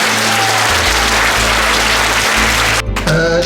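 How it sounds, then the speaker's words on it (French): Audience applause for the performers of a Les Misérables show in Chalonnes: a dense, steady clapping crowd that fills the room, with a low musical hum beneath and a brief dip before the clapping swells again. "je vous demande de les applaudir"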